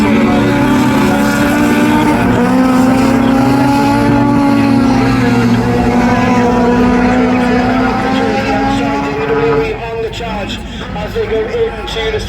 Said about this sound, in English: Jordan knows he just needs to keep the pace and needs to keep the Callow car behind him